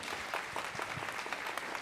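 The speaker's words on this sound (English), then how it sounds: "Let's give Dr. Long another round of applause" A lecture audience at a mini medical school event gives a round of applause for a doctor, brief continuous clapping at a moderate, even level.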